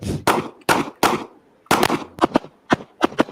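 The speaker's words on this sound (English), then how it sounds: "Let's get shooting." A rapid string of loud gunshots fired at a vest, in uneven clusters with brief pauses between groups and no talk over them.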